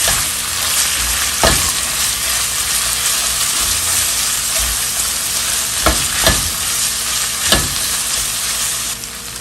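Onion fries with browned meat in its rendered fat, giving a loud, steady sizzle close by, broken by a few sharp stirring scrapes and knocks.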